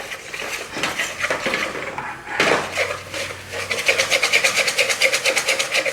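A utensil stirring melting sugar in a pot to make burnt-sugar browning, with close, rhythmic scraping and clinking strokes that grow steady and quick toward the end.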